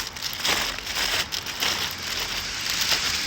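Light rain patters steadily on a town street in Goesan, South Korea, a continuous soft hiss with faint droplet crackle throughout.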